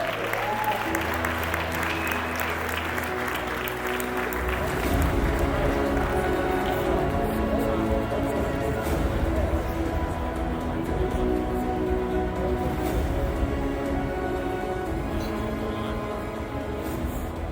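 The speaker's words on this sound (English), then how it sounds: "Make some noise for Michelle van Eyden." Sustained applause from a large crowd at a rugby awards ceremony, steady and loud throughout, with scattered cheers mixed into the clapping.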